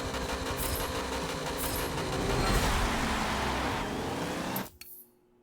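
A C-class car's engine in the Forza Motorsport racing game: a sustained droning roar that swells slightly, shifts pitch near the end, then drops away abruptly into near silence, with no speech.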